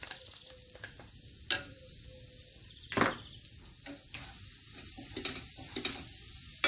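Onions sauté with garlic and ginger in a pan, a low steady sizzle with intermittent stirring scrapes and light knocks of a utensil against the pan, fairly quiet and close.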